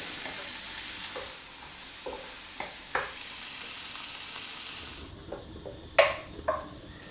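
Shallots and cashew nuts stir-fried in a pan make a bright sizzle with intermittent spatula scrapes and taps. The hiss drops away midway, leaving a few louder knocks against the pan.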